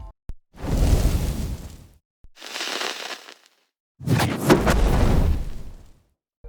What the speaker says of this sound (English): I'm combining them with some brighter, crackly elements too, to sell the fire actually burning the environment around it